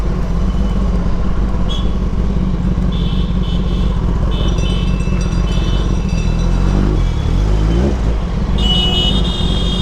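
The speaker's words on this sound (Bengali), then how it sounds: "কেন স্বপ্নের বাইক চালাচ্ছি তো, কিন্তু এই রাস্তায় এতটা জ্যাম" A Kawasaki ZX10R superbike rides through congested road traffic, with a steady loud engine drone and road noise throughout and engine tones rising and falling near the end.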